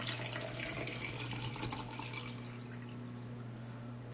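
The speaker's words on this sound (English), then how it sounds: "Anyway, I'm going to pour the water into this cup." Water pours into a cup in a steady, faint trickle with a light splashing tone that fades slightly over a few seconds, heard close with no talk.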